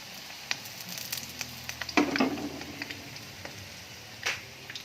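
Mackerel (saba) frying in hot oil in a pan, a steady close sizzle with sharper crackles and pops, swelling in a louder burst around the middle, with no one speaking.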